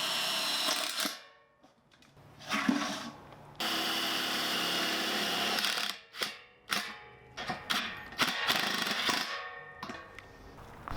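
A power drill whirs as it drives self-tapping screws into stainless steel spacers for a fire pit, with long sustained motor runs broken by pauses and then a string of short stuttering bursts.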